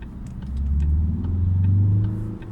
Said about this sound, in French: Cette accélération, on dirait que j'ai un V12 maintenant.